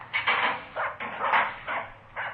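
A dog in a radio drama barks in a series of about six sharp, mid-distance woofs, spaced irregularly across a couple of seconds with no talk over them.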